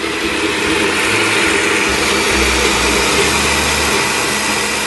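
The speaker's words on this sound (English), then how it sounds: "Combine all ingredients into your blender. Blend well until completely smooth." A blender runs loud and steady, whirring through a thick spinach and chickpea tortilla batter with water, and its motor tone shifts slightly partway through.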